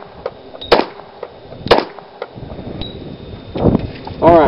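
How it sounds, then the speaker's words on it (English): Pistol shots at a Texas concealed handgun license qualification range: two sharp, close reports in quick succession, then later shots mixed with a voice and outdoor background noise. "Do you understand the string of fire? 2 shots, then 3 shots."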